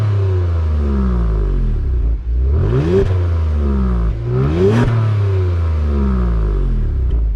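A 2022 Genesis G70 Sport Prestige in Sport Plus mode revs twice, each climb rising to a loud snarl and dropping back to a deep steady idle, close by with no talk.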